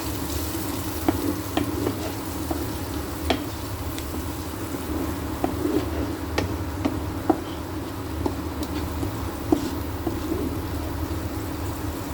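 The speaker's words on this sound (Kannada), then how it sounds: "ಈಗ ಮಿಕ್ಸ್ ಮಾಡ್ಬೇಕ್ರಿ." Turmeric and chili powder being stirred in a pan over the flame, a steady close frying sizzle with scattered scraping clicks of the spoon throughout, no talking.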